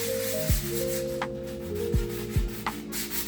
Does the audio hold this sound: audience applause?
no